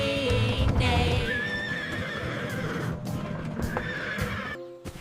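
A horse whinnies loudly and close, with shrill, wavering neighs over faint hoof clip-clops and a low rumble, then cuts off abruptly at the end.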